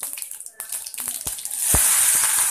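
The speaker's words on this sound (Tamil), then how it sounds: "வெறும் கடுகு மட்டும் சேர்க்குறேன்" Mustard seeds hit hot oil in a pan for a dried-fish curry: a few scattered pops at first, then a loud, steady spluttering hiss that swells and holds to the end.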